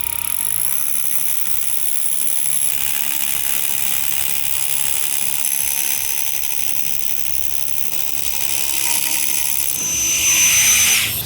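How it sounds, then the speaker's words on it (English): A Dewalt drill fitted with a stop bit bores a pilot hole, giving a continuous whirring, grinding drone close by for about eleven seconds that swells louder near the end. "So this is considered a stop bit."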